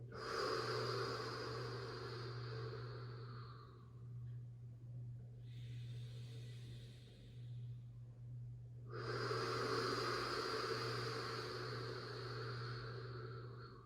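Deep, slow breathing during a yin yoga class, long steady inhales and exhales rising and falling across the clip with a pause in the middle, close and alone over a constant low hum.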